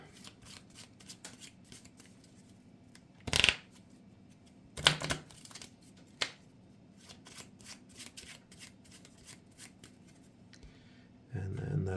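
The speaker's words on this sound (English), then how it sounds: "Shuffle those 2 back into my deck." Playing cards from a Marvel Champions game are shuffled back into a deck in two short, close riffle bursts a moment apart, with quiet room sound and faint voice between them.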